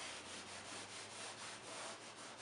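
A lint-free cloth rubs a chalk paint wash into furniture, producing a soft, steady scrubbing hiss in a regular back-and-forth rhythm, close but quiet, with no talking.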